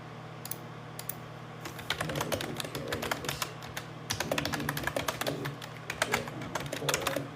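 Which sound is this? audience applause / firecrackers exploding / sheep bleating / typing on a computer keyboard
typing on a computer keyboard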